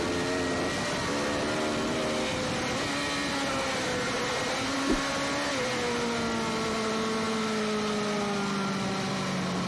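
A 600cc sport bike engine screams at high RPM on an onboard ride, a continuous loud tone that shifts pitch as the rider works through the revs, with no talk.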